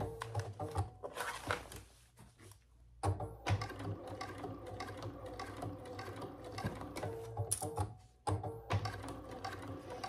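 A sewing machine stitches through a fabric case built on a small plywood base. Its motor runs in steady bursts with brief pauses and mechanical whirring throughout.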